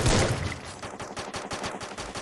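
Rapid gunfire in the Free Fire battle royale game, a dense burst of repeated sharp shots in quick rhythm, loudest at the start and continuing steadily without speech.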